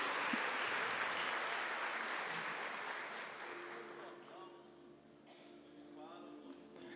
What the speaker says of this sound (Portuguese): Vamos aplaudir o Espírito Santo.